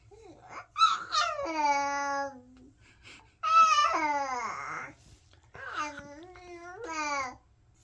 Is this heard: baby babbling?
yes